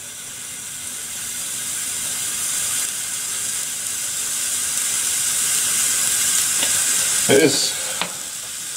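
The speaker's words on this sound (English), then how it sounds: "I'm going to pop a wee drop of oil in this wee pan" Small one-egg non-stick frying pan with a drop of oil heating, giving a steady close hiss and sizzle that swells gradually, with a brief clatter near the end and a short spoken phrase.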